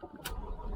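A supercar's engine fires up with a short, loud burst of cranking and ignition, then settles into a steady low rumbling idle that fills the rest of the moment.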